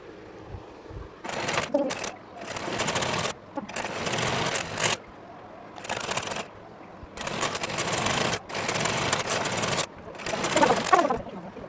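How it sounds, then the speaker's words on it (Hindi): Domestic sewing machine stitching trouser fabric, running in repeated bursts of steady whirring with short pauses between seams, close and fairly loud. "बीच में जो ये दोनों कपड़ा है इसको भी पकड़ के और वहाँ तक हम सिलाई लगा लेंगे"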